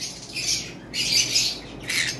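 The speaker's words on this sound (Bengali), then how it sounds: "এবার আসেন ট্যাম পাখিগুলো আপনাদেরকে দেখাচ্ছি" Tame pet birds, a pair of males and females, give three harsh, shrill squawk bursts up close, each lasting about half a second with short gaps between them.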